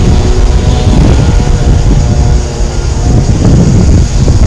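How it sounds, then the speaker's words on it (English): A big train passes nearby on a railway line in Bundaberg, a loud, steady broadband rumble and roar filling the whole stretch without pause, with no talking over it. "that big train's coming"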